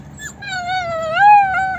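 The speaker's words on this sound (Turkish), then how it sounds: "Köpek dolu burası ya." A dog lets out a drawn-out, high whining whimper, rising and wavering, close by over a low background rumble.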